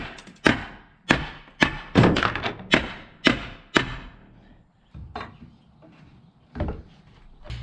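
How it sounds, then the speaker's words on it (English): A hammer and crowbar knock apart wooden pallets: a series of sharp, hollow wooden thunks and cracks, about seven strong hits in quick rhythm, then fainter, sparser knocks, close and loud. "To do that, we're going to use a crowbar and a hammer."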